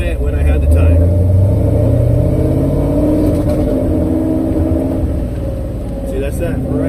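A car with a rebuilt 351W engine and Flo Tec 185cc Thumper heads cruises along, its loud, rumbling exhaust swelling and easing as the throttle goes on and off.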